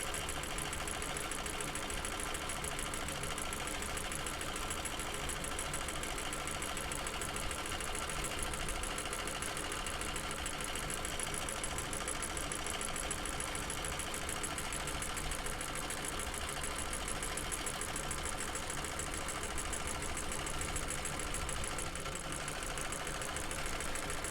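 A sewing machine stitching the strap of a bucket bag hums and ticks steadily at a moderate speed. It runs without a break and sounds close but fairly quiet.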